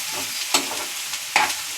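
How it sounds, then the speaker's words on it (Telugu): Onions cook under a lid in a pan, a soft continuous sizzle with two brief scraping stirs, close and steady with no voices. "కవర్ చేసి ఉల్లిపాయలు అయితే కొంచెం సేపు మగ్గించుకుంటున్నారండి."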